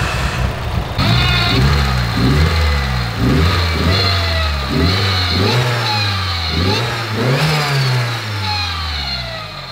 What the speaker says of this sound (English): I'll just show you guys what it sounds like. It does not sound healthy whatsoever.